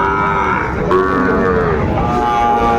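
A Sahiwal bull calf at a cattle market gives a loud, close, drawn-out moo that swells and wavers for a couple of seconds over market background noise.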